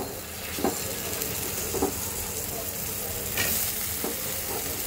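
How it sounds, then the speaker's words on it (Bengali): Cut eggplant frying in a spice mix for an aloo-begun hilsa fish curry, a steady close sizzle with a few sharp stirring scrapes and clatters scattered through, no voices. "দিয়ে দেব এর মধ্যে কেটে রাখা বেগুন।"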